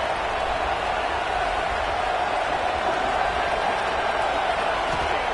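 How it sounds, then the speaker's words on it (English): A football stadium crowd roars in a dense, steady wash of noise that fills the whole stretch at an even level. "listen to this crowd noise. This stadium is vibrating."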